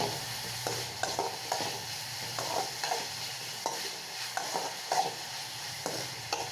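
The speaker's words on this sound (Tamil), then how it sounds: "தக்காளி வெங்காயம் நல்லா குக்காகிறதுக்காக தேவையான உப்பு ஆட் பண்ணி நல்லா சேர்த்து வதக்கிக்கோங்க" Tomato and onion sautéing with salt in a pan, a soft, steady sizzle with repeated scraping stirs at an even rhythm, fairly quiet and close.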